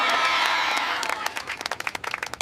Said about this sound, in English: Why are people cheering?